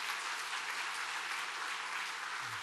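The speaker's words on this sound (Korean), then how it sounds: "우리 한번 축하 박수를 하겠습니다" A church congregation clapping in celebration during a Korean service, a dense, even wash of many hands, fairly quiet and steady throughout.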